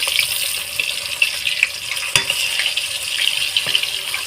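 Katla fish head frying in hot oil, a continuous bright sizzle with occasional sharp pops and crackles, close and steady with no talking.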